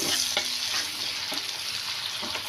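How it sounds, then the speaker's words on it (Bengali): Onions frying in hot oil in a pan, left over from frying prawns, with a steady loud sizzle and occasional stirring clicks throughout, no voices. "এদিকে ওই তেলেই আমি পেঁয়াজগুলোকে একটু ভেজে নেব।"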